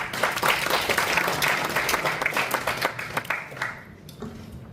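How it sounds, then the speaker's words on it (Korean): Audience applause at a peace forum in a small National Assembly meeting room. Brisk, dense clapping starts loud and gradually thins and fades toward the end. "여러분 또 박수 한번 칩시다."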